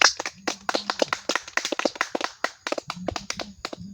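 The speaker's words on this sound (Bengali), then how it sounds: "আপনারা একটু জোরে হাততালি দেন।" Sparse clapping follows a card magic trick, a handful of sharp, uneven hand claps in a quick irregular patter, fairly close, with a few faint low tones in between.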